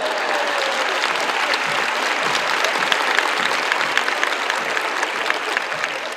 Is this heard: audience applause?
yes